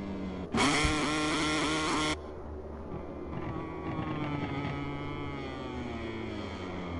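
A Honda MotoGP bike engine in MotoGP 23 at Termas gives a loud, bright burst of high revs, then a lower engine note that climbs and falls through gear changes.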